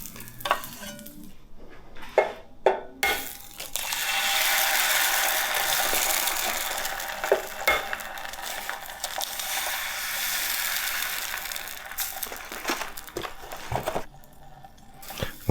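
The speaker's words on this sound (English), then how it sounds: "I'm gonna fry an egg while I first taste this." An egg sizzles on a hot griddle with a loud, broad crackling hiss that rises after a few sharp utensil clacks and runs for about ten seconds before easing off into scattered scrapes and taps.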